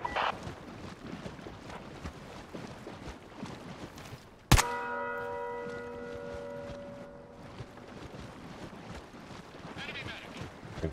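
In the video game Caliber, a bell is struck once, giving a sharp metallic clang that rings on with a sustained, slowly fading tone over game background noise.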